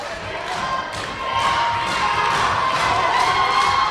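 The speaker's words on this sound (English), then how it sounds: "And listen to this crowd coming to life for Pat Mathews" Wrestling crowd in an arena roars and cheers for a wrestler, a loud, swelling wall of shouts and whistles that grows stronger partway through, with rhythmic thuds underneath.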